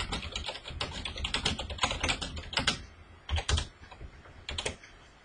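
Steady typing on a computer keyboard while entering a comment in Microsoft Word, with rapid close-up key clacks in bursts and brief pauses, alone without talk.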